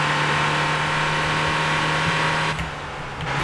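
A Ford Crown car's engine accelerates steadily in the Motor Town driving game, a loud continuous drone with a steady low hum that dips briefly near the end before resuming.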